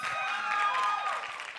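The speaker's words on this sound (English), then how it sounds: "can we give her a round of applause?" A dance showcase audience applauds a dancer after her solo, a faint, brief wash of clapping and crowd noise heard from a distance.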